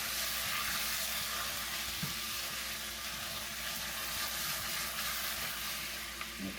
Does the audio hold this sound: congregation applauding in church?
no